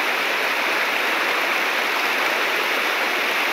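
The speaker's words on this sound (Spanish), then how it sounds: "Ahí lleva bastante agua. Como sigue lloviendo bastante" Rushing water pours through drainage pipes during heavy, continuing rain, a steady, dense roar with no break and no voices.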